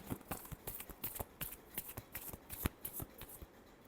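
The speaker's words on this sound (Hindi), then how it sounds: "last shuffle" Tarot cards being shuffled by hand, a quick run of crisp riffling taps and flicks at close range, fairly quiet, with no voices.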